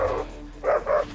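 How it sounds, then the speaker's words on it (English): Two excited dogs bark nearby: one loud bark, a brief pause, then two sharp barks in quick succession. "You have two excited dogs."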